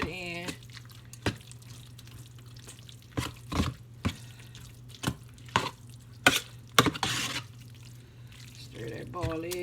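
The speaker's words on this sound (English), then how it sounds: "So then you stir that in." A spoon working through cornbread dressing in a bowl, soft wet scraping broken by sharp clinks against the dish at irregular intervals, close and moderately quiet, with no talking.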